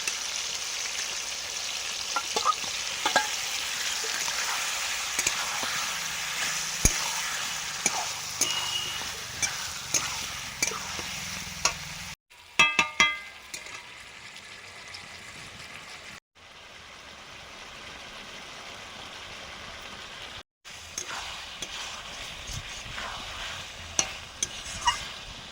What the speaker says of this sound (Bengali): এবারে মশলা মাখানো শোল মাছটা দিয়ে দিচ্ছি